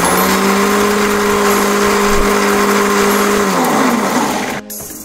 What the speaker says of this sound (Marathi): आता आपण मिक्सरमध्ये फिरवून घेऊ.